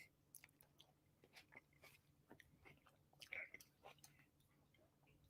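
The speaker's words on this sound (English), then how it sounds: "As I eat and chew on camera live in front of everyone" Faint, close chewing of a grape: soft wet biting and mashing clicks scattered over several seconds against a quiet indoor room tone, with no talking.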